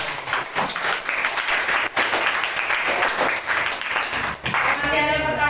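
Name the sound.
class applause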